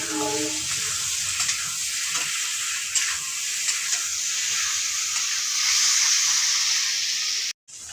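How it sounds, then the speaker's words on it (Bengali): Fried potatoes and chopped vegetable stem pieces are stir-fried together in a pan, with a steady bright sizzle and hiss, faint stirring scrapes, and a brief cut-out near the end. "ভেজে রাখা আলুগুলোকে আর দিয়ে দিলাম ভেজে রাখা ডাকি কুচিটাকে এখন আমি এটাকে একসাথে কষিয়ে নেব"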